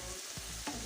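Carrots and meat are stirred in a frying pan for a beef and chicken cottage pie, giving a short close scrape of the utensil over a steady sizzle.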